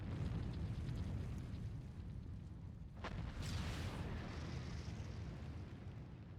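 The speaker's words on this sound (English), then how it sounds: "It sounds very explosion-y for a train." A deep explosion-like boom from a train in a video game erupts in the middle of steady rumbling, loud and broad, then fades back into the continuous low background noise.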